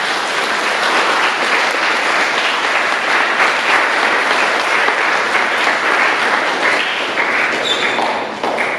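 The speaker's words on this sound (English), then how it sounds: "So I want you to clap for this success today." Loud, dense applause from an audience at a school Founder's Day service, an unbroken roar of many hands clapping together for nearly nine seconds before tapering slightly at the end.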